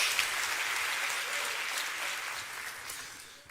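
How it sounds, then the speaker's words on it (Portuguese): A church congregation gives a round of applause to the Lord during a sermon, a continuous bright rush of many hands clapping that starts strong and slowly tapers off, with no clear speech over it. "pode dar uma salva de palmas ao Senhor"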